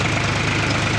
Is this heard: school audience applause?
no